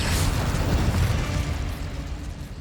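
An Incendio fire spell cast in Hogwarts Legacy gives a loud, close whooshing burst of flame with a rumbling low roar that slowly fades.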